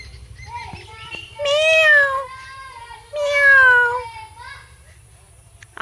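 A cat gives two drawn-out, rising-and-falling meows close by, spaced about a second apart, over a low steady background hum.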